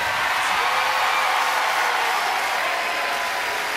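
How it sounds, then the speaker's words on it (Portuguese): Loud, dense audience applause fills the room in a steady, unbroken wash of many hands clapping at close range, with no talking heard over it. "Forte aplauso para ela."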